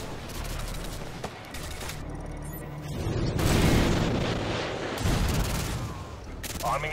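Missile strikes in the video game Modern Warfare 2 set off booming explosions with a rumbling roll and scattered gunfire, while radio-style voices talk over the blasts.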